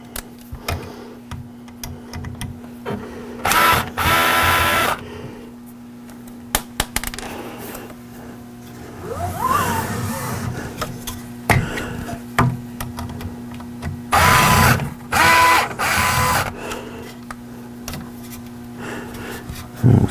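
Someone unscrews the hot end cover of a Creality K1C 3D printer by hand, making scattered close ticks and small plastic clicks over a quiet background, with a few louder handling bursts.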